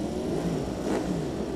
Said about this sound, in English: Revs are going up.